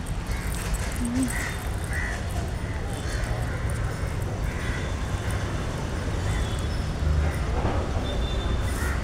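Several crows caw intermittently at a distance in a small garden, over a steady background of outdoor noise and faint voices.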